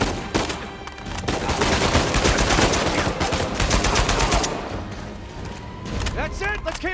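Rapid automatic gunfire and scattered shots fill a firefight in the video game Uncharted 4, loud and dense for several seconds before easing off, with a voice calling out near the end.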